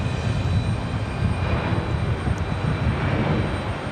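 An Alaska Airlines Boeing 737-900 jet roars loud and close at Raleigh Durham airport, a broad, steady rumble of engine noise that stays constant throughout.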